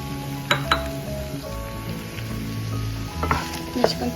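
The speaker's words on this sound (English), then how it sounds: "Just continue stirring it until the bittermelon is soft." Bittermelon frying with softened tomatoes in a pan sizzles steadily while a utensil stirs, clinking and scraping against the metal a few times, close by.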